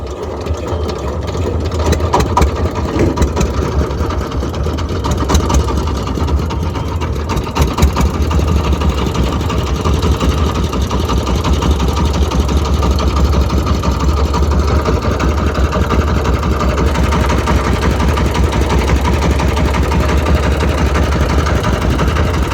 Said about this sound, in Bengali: দেখেন এখন সেলো ছেড়ে দেবে